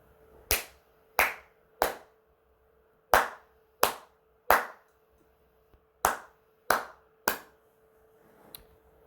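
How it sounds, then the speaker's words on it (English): Nine sharp hand claps in a slightly uneven series, each a crisp close transient with a short decay, standing out over a faint steady hum, made to sync audio between a camcorder and an old cell phone. "Now I'm going to clap."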